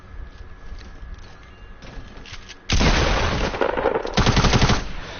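Weapons fire in Fortnite's Playground mode: after a quiet stretch, loud rapid automatic bursts break out and continue in dense, repeated volleys to the end, with a heavier boom mixed in.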